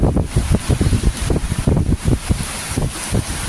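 Gusty typhoon wind in Leyte, Philippines, buffeting the microphone in low rumbling bursts, with a steady roar and faint high hiss underneath; no voices.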